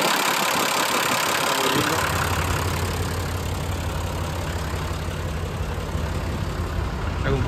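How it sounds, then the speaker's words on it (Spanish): A used tractor with front loader idles steadily, a low continuous engine rumble that stays close and loud throughout, with someone briefly speaking over it. "El motor suena precioso"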